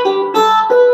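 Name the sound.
4-string cigar box guitar playing Here Comes the Sun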